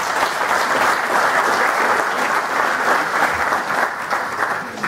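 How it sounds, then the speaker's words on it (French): Audience applause at a multidisciplinary faculty day event, loud sustained clapping from a crowd that stays dense and even, easing slightly at the end. "Je vous demande de les remercier et de les applaudir"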